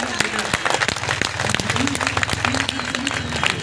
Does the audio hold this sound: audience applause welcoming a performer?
yes